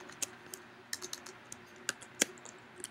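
Someone types a spreadsheet formula on a computer keyboard: a dozen or so sharp, close keystroke clicks at an uneven pace in a quiet room.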